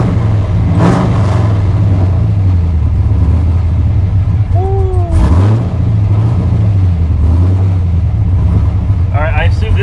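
A 500HP Nissan 240SX engine revs hard and close: a steady loud idle rumble rises into sharp throttle blips and falls back, with people talking over it.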